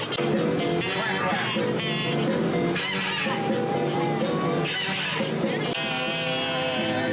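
A crowd on a Ride the Ducks tour in Branson blows duck calls together, producing loud, honking quacks in repeated bursts with brief pauses between them.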